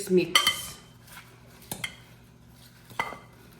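A fresh salad seasoned with Himalayan salt is tossed in a bowl, giving a few sharp clinks and knocks of utensils against the dish with quiet gaps between them.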